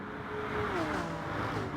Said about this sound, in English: We'll see whether Baggy can get the slipstream and take that position back as they head up the Kemmel